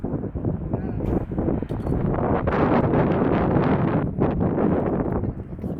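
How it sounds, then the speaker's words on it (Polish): Gusty wind buffets a microphone outdoors at a skatepark, producing a loud, rumbling roar that surges and dips for the whole stretch. "Nie, za bardzo zawiało"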